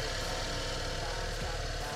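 A Suzuki V-Strom motorcycle engine cranks on the starter and catches, settling into a steady, close idling rumble that runs continuously with a faint buzz on top.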